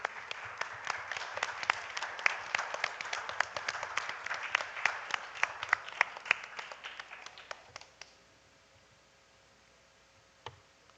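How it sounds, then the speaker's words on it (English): Audience applause for the teachers at an annual primary schools quiz event, a dense patter of clapping that thins and stops around eight seconds, followed by near silence and one isolated tap near the end. "So a round of applause for all the teachers."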